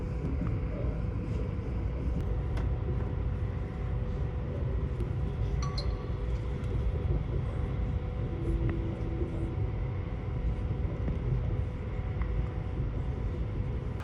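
Steady low rumble of a commuter train running on a loop line in Moscow, with a constant hum and faint rattles throughout, no voices.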